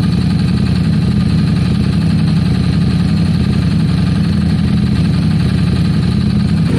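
A broken-down Harley Davidson motorcycle engine idles steadily up close, a loud, even low rumble with a constant throbbing beat and no voices over it.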